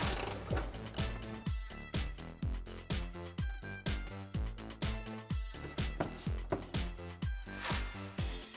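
Rapid ratcheting clicks from a 7 mm socket ratchet backing out front bumper bolts on a 2013-2018 RAM 1500, a steady run of close, crisp mechanical ticks with brief pauses, no talking.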